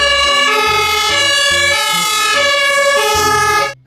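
A toy fire truck plays a loud, close electronic siren, a steady repeating wail with layered musical tones that continues alone with no talk and cuts off abruptly at the end.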